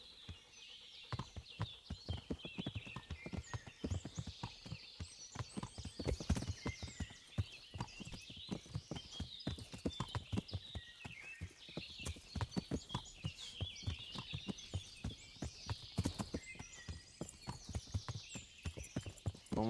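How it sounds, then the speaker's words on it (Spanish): Horses walk at a slow pace in the medieval video game Kingdom Come: Deliverance, hooves clip-clopping in a steady overlapping rhythm, fairly quiet, with faint birdsong behind. "Vamos literalmente caminando con los caballos."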